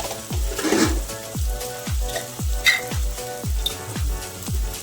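Fish curry spices frying in a pan and being stirred, with salt and chili powder added: a loud, steady sizzle broken by regular scraping strokes of the spoon at a rhythm of about two per second.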